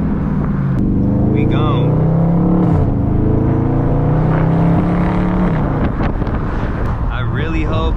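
Widebody Dodge Charger 392 Scat Pack engine roars loudly and continuously while drifting, pitch rising and falling through revs, with wind buffeting the microphone and a brief shout near the start.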